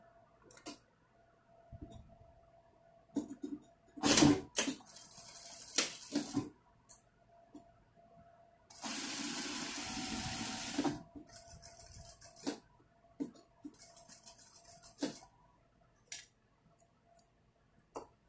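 An overlock sewing machine stitches fabric for a tissue box cover, running in short close bursts with one longer steady run in the middle, separated by clicks and quiet pauses.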